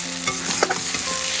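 Banana stem (thor) frying in hot oil, a soft continuous sizzle with light stirring scrapes and a few brief clicks, close by with no talking.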